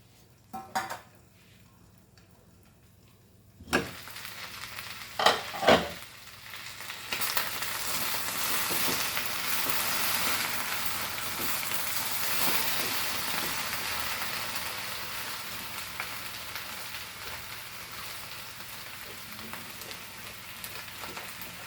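Okra for Goan bhindi amsol cooks in a covered pan: quiet at first, then a steady broadband sizzle sets in, with a couple of sharp metallic clanks near the start of the sizzling.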